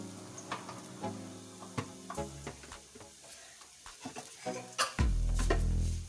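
Spices for chicken kachori are roasted in a pan, with a soft sizzle and repeated scraping, clinking stirs of a utensil against the pan, and a louder frying hiss swelling near the end.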